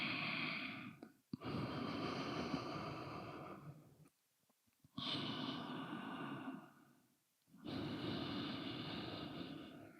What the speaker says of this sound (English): The pattern is we breathe in for 3 and out for 5.